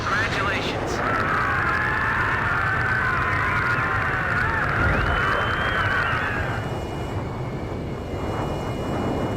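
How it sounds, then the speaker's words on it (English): SSTO spaceplane climbing in Ace Combat 5, a loud, continuous engine roar with a rising whine that fills the scene, then thins out toward the end, while radio voices talk over it. "The SSTO is climbing smoothly."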